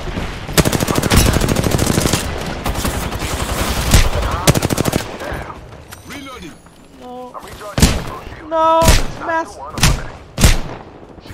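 Rapid automatic gunfire from an Apex Legends match, with dense sustained bursts over the first five seconds followed by scattered shots and game sound effects, while a player talks over it.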